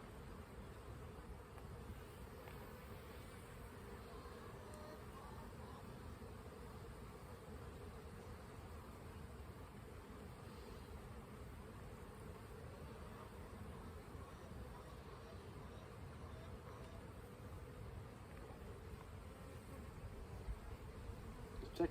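Honeybees hum as a steady, faint, low drone throughout an April hive colony inspection with smoke, with no break in the buzzing.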